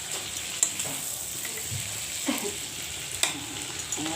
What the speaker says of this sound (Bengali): চিংড়ি মাছটা হালকা করে ভেজে নেবো, বেশি ভাজলে চামড়ার মতো হয়ে যায়।